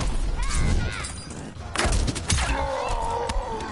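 Gunfire in the Mortal Kombat X video game: a dense, loud burst of overlapping shots and thumps, then a couple of sharp cracks with ringing tones, blended with game noise and vocal grunts.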